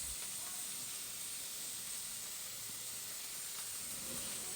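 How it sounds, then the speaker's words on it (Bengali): Rice frying in oil in a pan gives off a steady, unbroken sizzling hiss that stays even and fairly loud for the whole stretch, with no voices. "এদিকে ভাজা চলছে"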